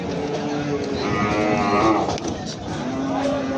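A Sahiwal cow moos loudly and close by in one long, drawn-out low call at a cattle market.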